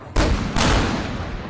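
Two heavy booming shots ring out from openings in a tower, about half a second apart, each loud blast leaving a long rumbling tail.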